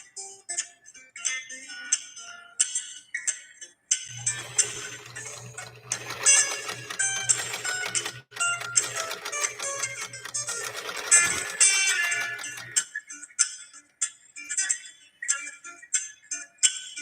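A Spartan sewing machine stitches in a fast, even mechanical clatter for several seconds, with a low motor hum beneath, framed by quieter ticking and clicks before and after, with faint music in the background.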